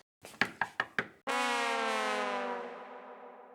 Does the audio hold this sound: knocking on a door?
yes